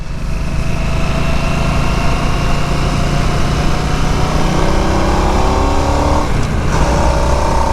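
A 2022 Harley-Davidson Nightster motorcycle engine on a test ride: a loud, steady drone whose pitch shifts near the end as it drops from fourth to third gear.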